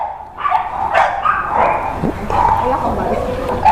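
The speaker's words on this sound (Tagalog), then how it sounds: "ang lalaki ng aso" A big dog barks in short repeated woofs and yips close by, mixed in with people talking nearby.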